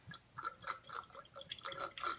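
Wine poured through a handheld aerator into a glass, giving a soft, continuous gurgling and dripping suction sound with bubbly, liquid spatters throughout.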